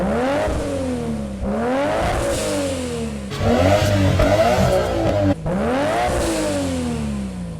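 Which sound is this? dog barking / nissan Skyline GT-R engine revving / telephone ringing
nissan Skyline GT-R engine revving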